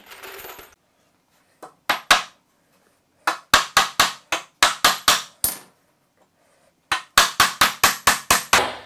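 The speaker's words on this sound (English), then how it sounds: "And then this piece will be hammered on the same way, starting down there." Sharp hammer strikes on wood framing members in quick bursts of two, six, five and seven blows, separated by short pauses, close and loud.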